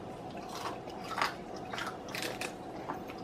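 Crunchy celery being bitten and chewed close up, a run of crisp snapping crunches and wet chewing at a steady pace, with no talking.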